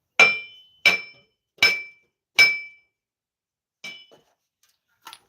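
A hammer taps on metal parts of a 2014 Dodge Ram 1500 axle during a bearing replacement: four sharp, ringing metallic strikes at an even pace, then two fainter taps after a pause.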